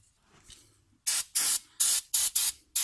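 Brake cleaner sprayed onto BMW front brake parts in six short, loud hissing bursts at close range after a quiet start.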